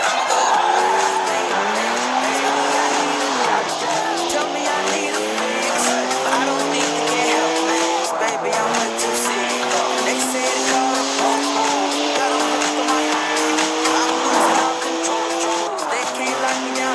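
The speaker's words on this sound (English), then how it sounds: "3-litre straight six, 335 horsepower, two turbos, as much sideways action as you like." A BMW 1M with a 3-litre twin-turbo straight six drifting in the video game Forza Horizon 4, with loud, continuous tire squeal and a revving engine that rises and falls in pitch, alongside a voice speaking.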